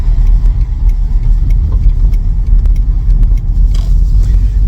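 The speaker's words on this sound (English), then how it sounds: "noticing is that loads of traffic on here, big moving truck" Heavy road traffic with a big moving truck rolling past, a steady loud low rumble of engines and tyres filling the whole stretch without letup.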